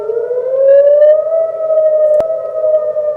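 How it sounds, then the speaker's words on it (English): A loud, steady fire and police department warning siren in Platteville wails on a sustained rising tone, with one brief sharp click partway through. "Fire and police department warning sirens."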